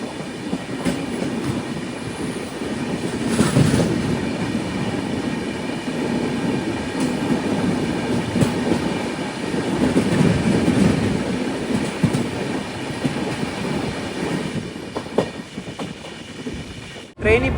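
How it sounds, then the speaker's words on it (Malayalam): Navyug Express passenger train rolling on rails toward Hazrat Nizamuddin station, a steady close rumble and rattle of wheels with clicking rail joints throughout, loud and continuous, with a brief faint voice in the background. "ട്രെയിൻ ഇപ്പോൾ ഹസ്രത്ത് നിസാമുദ്ദീൻ റെയിൽവേ സ്റ്റേഷനിലേക്ക് ഇതാ എത്തുകയാണ്"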